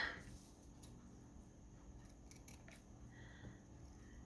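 Scissors snip through a strip of sari silk fabric, with a few quiet, close cuts in an otherwise hushed room.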